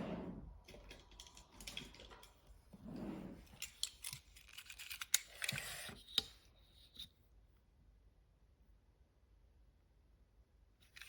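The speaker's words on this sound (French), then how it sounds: "Et maintenant, nous allons découper cette partie-là" Craft knife slicing through card paper at close range: soft, quiet scraping and cutting strokes with a few small clicks, fading to near silence afterward.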